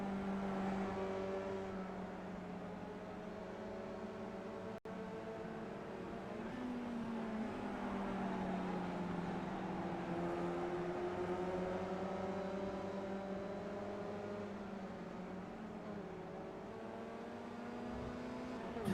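Race cars in the iRacing sim at Indianapolis pull out of the pit lane, a steady droning engine tone with rising and falling pitch sweeps as the cars accelerate away, moderately close and continuous.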